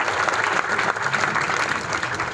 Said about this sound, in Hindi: जितेंद्र सर के लिए एक बार तो जोरदार तालियां होनी चाहिए भाई